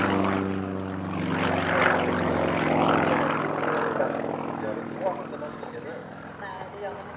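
A Sukhoi Su-31 aerobatic propeller plane performs at an air show, its engine droning and rising and falling in pitch as it swoops at a distance, with people talking over it.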